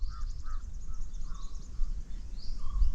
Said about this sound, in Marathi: शांतपणे कानात जीव ओतून ऐका हा पक्ष्यांचा मधुर आवाज